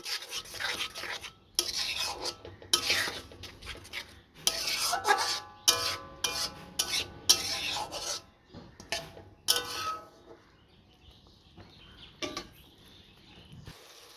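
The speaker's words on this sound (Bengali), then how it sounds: "1 চামচ নুন আর 1 চামচ হলুদ। এবার এটাকে ভালোভাবে কষিয়ে নেব।" Spices with salt and turmeric are stir-fried in a pan for milk chicken, heard as repeated scraping strokes of a spatula against the pan in irregular bursts with short pauses, close and moderately loud.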